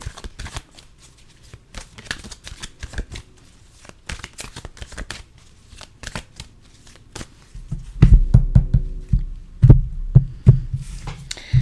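A deck of oracle cards is shuffled close up, giving quick riffles and taps in bursts, then heavier thumping shuffles and knocks toward the end.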